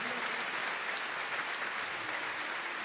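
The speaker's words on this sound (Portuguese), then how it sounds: "Então aplauda esse Deus maravilhoso que tem para nós o céu" A congregation applauding during a Catholic Mass homily, dense sustained clapping that fills the room evenly for the whole stretch, with no break.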